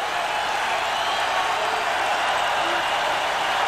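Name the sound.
football stadium crowd cheering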